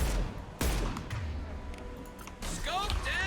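A concussive shot fired in Mass Effect 2 on Insanity difficulty lands as one sharp, loud blast early on, followed by rumbling combat noise and later a chirpy, swept electronic effect, with someone talking over the action.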